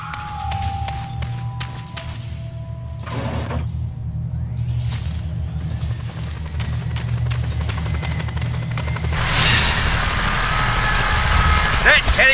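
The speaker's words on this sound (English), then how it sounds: "That helicopter will tear us to pieces! You must deal with it quickly, Scorpio!" A helicopter attacking in the open-world game Just Cause 2: a steady rotor and engine drone runs throughout beneath voices, with scattered thuds and crashes, swelling louder and harsher near the end.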